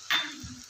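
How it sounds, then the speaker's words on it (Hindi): Ginger garlic paste frying in a pan for a Peshawari charsi karahi, giving a short burst of sizzling that settles into a steady low crackle, close and fairly quiet with no talking. "अदरक लहसुन के पेस्ट को अच्छे से फ्राई कर लेंगे।"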